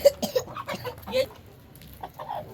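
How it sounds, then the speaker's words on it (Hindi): A pure-breed rooster clucks in short, repeated bursts close by, with a person calling and talking around it in a farmyard setting. "बहुत ही प्यारा मुर्गा है और प्योर नस्ल है।"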